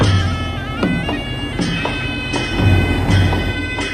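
Wheels clack over rail joints in a regular rhythm above a steady low hum of a train moving out of Kalka.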